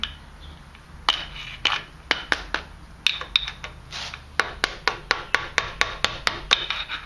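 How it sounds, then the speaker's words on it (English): Screwdriver and hammer tightening the clutch washer on a 1980 Honda CB650, a series of sharp metallic taps, sparse at first, then coming in a quick, fairly regular run of hits, close and clear with no talking. "Now we want to tighten the washer up. I'm just going to use my screwdriver and hammer."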